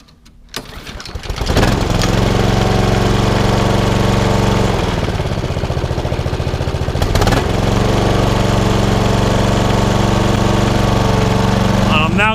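A Honda HRX 476 walk-behind lawnmower on choke pulls into life after a brief start and then runs at a loud, steady, close buzz, with a short dip in the middle before it picks back up.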